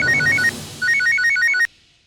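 A telephone plays a bright, melodic electronic ringtone in two quick bursts separated by a short gap, close and clear, then cuts off abruptly.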